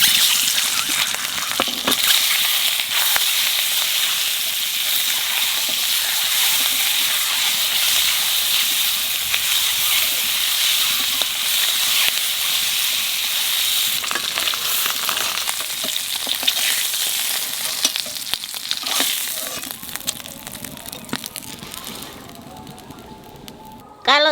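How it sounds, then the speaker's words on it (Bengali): Eggs sizzle in hot oil in a pan while an egg and eggplant curry is made, a steady broadband crackle and hiss running close and fairly loud for the whole stretch without a break. "ডিমটাও একটু ভেজে নেব।"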